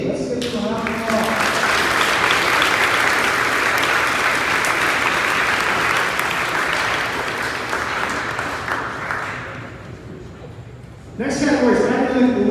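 Sustained applause from an audience at an eighth-grade school awards ceremony, steady and full for about ten seconds, tapering off briefly before a voice begins speaking near the end.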